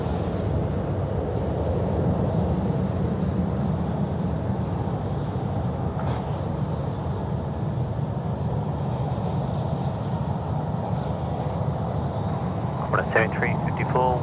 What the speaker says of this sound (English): It's a bit of a long start to the takeoff roll there, huh?